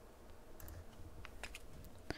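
A wireless office mouse is clicked at a normal pace during a clicks-per-second test, producing scattered faint, sharp clicks with no talking.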